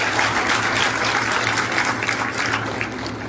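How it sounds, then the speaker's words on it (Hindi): Loud applause from an audience at a formal ceremony where a memento is presented to a High Court Chief Justice in Jharkhand, a dense, continuous clapping that eases slightly in the final second. "हम स्मृति चिन्ह प्रदान कर रहे हैं और आपकी तरफ से जोरदार तालियां जरूर होनी चाहिए।"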